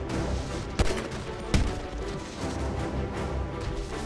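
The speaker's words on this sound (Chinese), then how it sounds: "这是对空的机枪嘛，对不对？" Rapid anti-aircraft machine gun fire from a warship in GTA 5 rattles on steadily, with two sharp heavy shots cracking out near the start.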